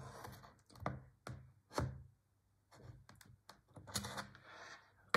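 Irregular bursts of key clicks on a computer keyboard as a palera1n jailbreak command is typed, close and fairly quiet, with short pauses between runs of keystrokes and no talking.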